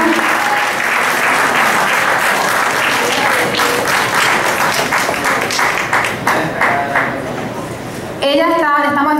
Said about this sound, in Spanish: Fuerte, fuerte y grande el aplauso.